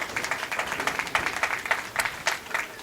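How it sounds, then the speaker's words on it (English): Fans applauding at a junior bowling championship match, a moderately loud, continuous patter of many hands clapping together in the bowling centre. "Great round of applause from the fans here"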